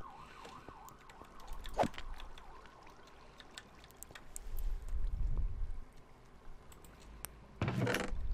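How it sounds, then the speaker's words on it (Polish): Ambulance siren wailing somewhere off in the distance, its rising and falling tone faint beneath louder close-by knocks, rustles and scraping noises in the room. "No jest karetka, serio."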